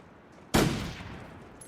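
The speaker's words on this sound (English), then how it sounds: "I'm going to use this rifle." Single rifle shot in the survival video game The Long Dark, one sharp loud crack that decays over about half a second against quiet ambient wind, with no talking.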